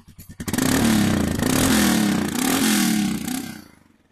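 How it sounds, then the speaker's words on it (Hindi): Stock air-cooled Royal Enfield Himalayan 411 motorcycle exhaust, a loud, raw, thumpy single-cylinder note that rises and holds for about three seconds, pulsing steadily before dying away, with no talk over it. "हिमालयन 411 का एग्जॉस्ट साउंड"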